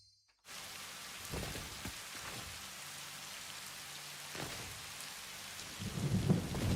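Steady rain with rolling thunder from a storm in the game Satisfactory, a continuous wash of downpour with low rumbles swelling near the end, no voices.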